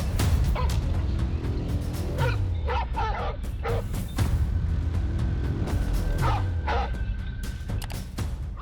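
A pack of dogs attacking a venomous snake yips, barks and whimpers in repeated excited bursts over a constant noisy background, loud and close.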